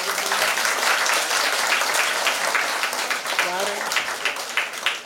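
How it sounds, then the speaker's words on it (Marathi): Sustained, fairly close applause from a gathering at a Buddhist event welcoming guests, steady clapping with a brief voice rising over it midway before the clapping thins out. "आपण सर्वजण आपल्या प्रत्येकासाठी जोरात टाळ्या वाजवून प्रत्येकाचं स्वागत"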